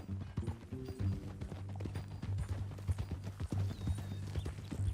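Hooves clip-clop at a steady walking rhythm in the Western video game Red Dead Redemption 2, close and continuous over a low hum, with no talk.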